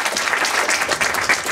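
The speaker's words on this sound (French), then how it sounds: "Je pense qu'on peut l'applaudir." Audience at an e-sports meetup breaks into steady, dense clapping that holds at an even level from start to finish, with no voices standing out.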